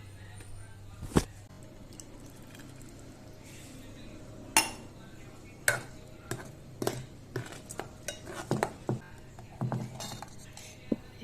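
Spoon stirring rice pudding in a metal pot after jaggery water is poured in, with scattered clinks and scrapes against the pot that grow busier toward the end, close and moderately loud, with faint talk in the background.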